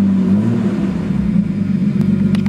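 A car engine idles steadily while warming up to operating temperature, giving a loud, close, continuous low hum with a faint rise in pitch early on and no talking.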